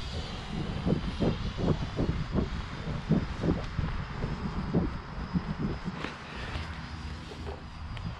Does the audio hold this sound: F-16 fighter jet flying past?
yes